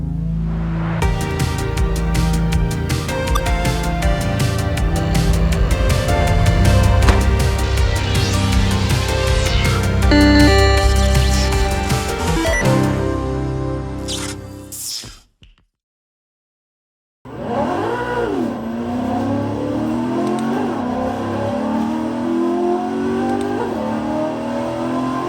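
A Koenigsegg CCX supercar at Dunsfold track roars loudly as its engine revs hard through rising gears, cuts to near silence for about two seconds, then screams back up with climbing, sweeping revs, close and continuous.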